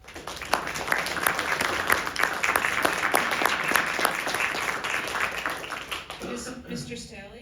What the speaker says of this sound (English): Please offer applause to both candidates for their willingness to answer your questions tonight